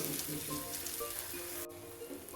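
Pakoras fry in a small amount of ghee, giving a steady soft sizzle with faint crackles, close and low in level, heard alone throughout.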